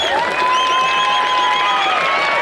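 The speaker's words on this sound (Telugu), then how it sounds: "ఒకసారి చప్పట్లు ఎట్లా కొడతారో నేను చెప్పాను." An audience claps at a Shivaratri cultural program in Thalakondapalli. The steady, dense applause carries thin whistle-like tones over it and continues without a break.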